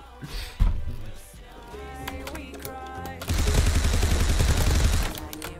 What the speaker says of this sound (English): He's shooting me through shit!